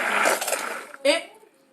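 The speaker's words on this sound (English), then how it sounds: "take our stick blender and go in ever so gently" A stick blender whirs through cold-process soap batter, a steady mechanical drone, then briefly pulses again with a sharper burst before cutting off to near silence.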